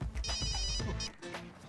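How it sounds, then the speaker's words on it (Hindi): A telephone rings with a tonal electronic ringtone in repeated bursts, moderately loud and close against a faint background. No one speaks over it. "मेरी बीवी का फोन।"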